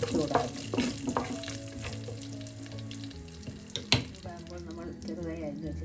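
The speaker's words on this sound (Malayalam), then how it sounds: "എല്ലാം കൂടി ഒന്ന് ഇളക്കി കൊടുക്കാം. ചൂടാകട്ടെ." Cardamom, pepper, star anise and bay leaves heating in a hot pan for palak chicken curry, a quiet low sizzle with occasional sharp spoon taps and scrapes, no talking.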